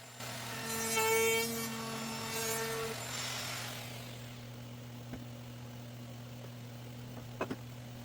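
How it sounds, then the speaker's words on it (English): A wood router cuts a softened corner radius on a softwood farmhouse tabletop guided by a jig, a loud whirring grind that builds and fades over the first few seconds, then the motor hum lingers with a couple of sharp knocks near the end. "Here's a better look of that corner radius jig at work"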